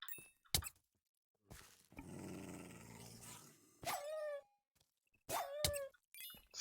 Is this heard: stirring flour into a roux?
no